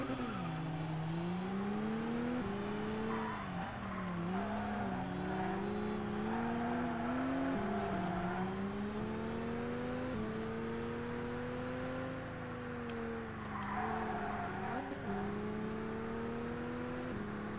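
Race car engine in the ToCA Race Driver 2 video game, a convertible on a track, revving steadily with rising and falling pitch through gear changes, continuous and close throughout with faint tire noise.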